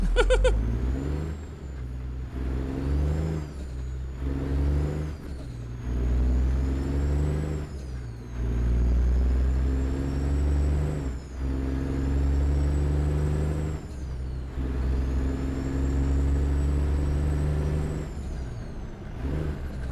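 A truck in American Truck Simulator revs up and drops back repeatedly as it works through its gears, a loud steady engine drone rising and falling in long cycles over about twenty seconds.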